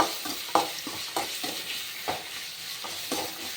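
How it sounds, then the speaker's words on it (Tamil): Turkey berries (sundakkai) frying in oil in a pan, a continuous sizzle broken by repeated scraping stirs at an uneven rhythm, close and moderately loud with no talking. "இப்போ ஃப்ரை பண்ண போகிறோம் நல்லா அந்த சுண்டைக்காய் வதங்கணும்"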